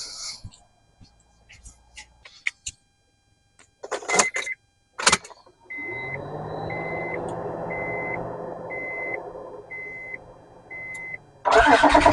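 A 2005 Honda Pilot 3.5 V6 with no coolant in it cranks and fires up after a few clicks and thumps, then settles into a steady idle with a door-open chime beeping at a regular rhythm over it.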